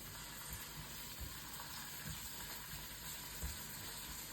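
Fried rice sizzles steadily in a pan during a home cooking class, a soft continuous hiss with faint occasional clicks and no talking.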